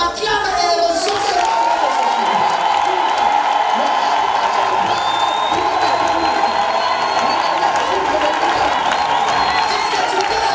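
A church congregation cheers and applauds continuously in a large hall, a dense, loud wash of clapping, shouts and whoops that holds steady throughout, with voices audible inside the roar.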